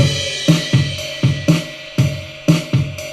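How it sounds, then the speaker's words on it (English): A programmed ride cymbal struck on each beat in a steady rhythm, bright ringing hits with shimmer between them, alongside a simple drum pattern. "Then you've got the ride cymbal."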